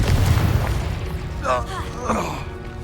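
The Confringo explosive spell goes off in the Hogwarts Legacy video game with a deep, booming blast and a whooshing magical burst that trails into crackling effects.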